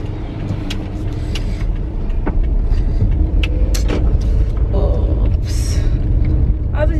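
A car passes close by at speed on a road, a steady loud rumble of engine and tire noise that fills the whole stretch, with scattered clicks and traffic noise on top.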